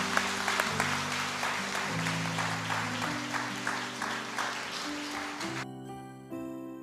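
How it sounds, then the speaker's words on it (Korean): A church congregation at a Sunday worship service breaks into warm applause. The clapping is steady and lively, with keyboard music playing underneath throughout. "뜨거운 박수."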